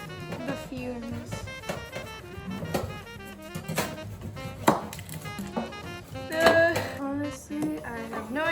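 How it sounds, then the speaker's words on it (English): A knife chops through an onion on a kitchen board while cooking pork sinigang, a few sharp cuts and clinks of utensils up close, with dishes rattling faintly in the background. "Mom told me to cut the onion in half first and then peel it."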